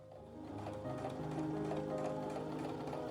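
A sewing machine runs steadily at close range, top stitching near the edge of slippery dress fabric, with a continuous even mechanical whir and rapid needle ticking and no pauses.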